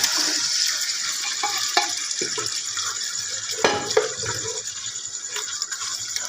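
Chicken karahi fries in ghee in a hot pan with a continuous hiss, broken by occasional clinks and stirring scrapes.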